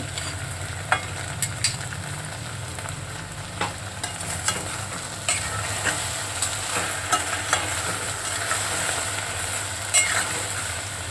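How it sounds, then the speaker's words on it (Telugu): Raw prawns fry in a pan for a prawn and okra curry, giving a steady close sizzle with light scraping and clicking from stirring all the way through. "ఇలా జిగిరిపోయేంత వరకు కొంచెం సేపు వేయించుకుంటే"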